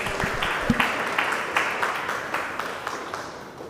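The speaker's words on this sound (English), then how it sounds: "big applause untuk kita semua" Audience applause closing a library session on an e-journal service, scattered claps close by that start sharply and thin out over a few seconds into a sparse, fading patter.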